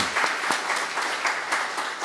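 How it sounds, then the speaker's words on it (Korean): A Korean church congregation at a Sunday service claps to welcome a newcomer, producing a loud, close round of many hands with a lightly pulsing rhythm and no talk over it. "박수로 환영하겠습니다"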